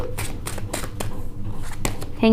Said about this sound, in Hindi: यहाँ से भी मैं लूंगी 2 कार्ड्स लूंगी